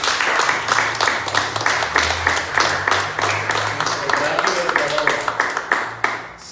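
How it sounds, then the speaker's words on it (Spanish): A church congregation bursts into sustained applause during a Spanish-language sermon, a dense wash of clapping filling the room, with a low murmur of voices or music underneath. "Le damos un aplauso al Señor."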